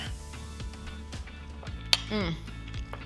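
Cutlery clinks and scrapes against a plate while cutting pumpkin cottage cheese pancakes topped with butter and maple syrup, with a few sharp metallic taps and one bright ringing clink, close and fairly quiet.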